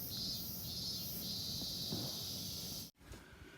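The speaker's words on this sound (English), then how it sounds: "enough to lean my iPad out of the window to capture some of the cicadas." Cicadas outdoors on the hottest day of the year so far make a constant, loud, high buzzing drone heard through an open window, broken off abruptly near the end by a brief silence before a quieter return.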